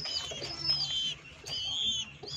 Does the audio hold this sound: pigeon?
yes